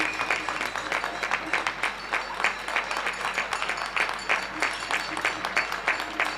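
Residents of Belleville in Paris clap from windows and balconies in the evening, with rhythmic waves of hand-claps echoing between buildings, steady and moderately loud with no talk.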